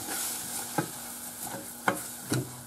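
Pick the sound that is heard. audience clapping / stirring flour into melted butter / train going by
stirring flour into melted butter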